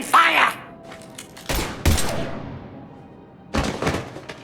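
Heavy gunfire in the sci-fi shooter Mass Effect 3, a few loud separate bursts with short gaps between them, each trailing off into echo, and a brief voice at the very start.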